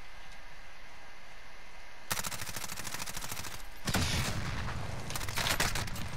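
Bursts of rapid automatic gunfire in Call of Duty Modern Warfare, starting after two seconds of quiet hiss and continuing as a dense, loud volley that swells again near the end.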